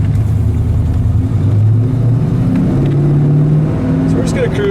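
A 1970 Chevrolet El Camino SS restomod with a working cowl hood cruises along, its engine droning steadily and loudly from inside the car while someone talks over it.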